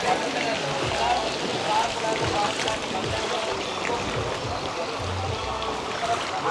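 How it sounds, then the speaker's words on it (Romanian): Steady rain falls in the Maldives during February high season, a dense even hiss of drops on water and surfaces, with lapping water and faint low rumbles underneath. "Plouă."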